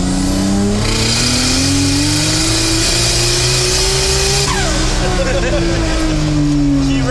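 RB20-swapped Ford AU Falcon on a scrappy 215 tyre, engine revving steadily in the cabin with a rising and falling drone, loud and continuous throughout.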